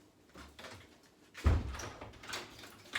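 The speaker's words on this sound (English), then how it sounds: "if I shut the back door" A back door is pushed shut, a single thudding close that lands sharply after some soft handling noise, fairly close and quiet overall.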